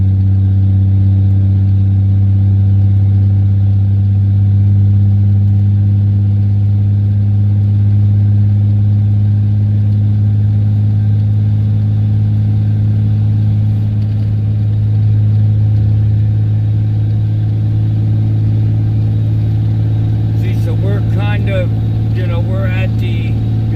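A Dodge Ram 5500 Cummins diesel truck hauling 46,000 lbs climbs a mountain, its engine a loud, steady low drone held under strain for the whole stretch, with brief clicking near the end.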